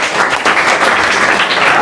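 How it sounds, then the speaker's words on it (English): Dense applause from a classroom full of students clapping for a classmate, nearby and loud, continuing without a break for about two seconds with no speech over it. "clap everyone for her."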